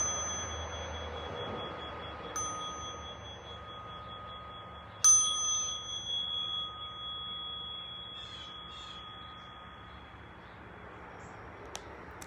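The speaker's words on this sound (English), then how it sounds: "listening for the sound of the bell." A meditation bell struck once at the close of a group meditation, a clear ringing tone that sustains and slowly fades over a quiet room with faint background hiss, a smaller chime returning briefly near the end.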